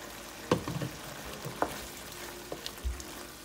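Homemade sloppy joe sauce simmering and reducing in a pan, a soft steady sizzle and bubbling with a few brief stirring clinks and scrapes, close and fairly quiet.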